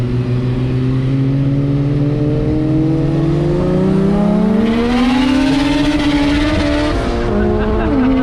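A Porsche 997 with a 3.8-litre engine pulls hard at a Powercruise event, its engine note climbing steadily and loud and close, with tyre noise mixed in and people talking over it.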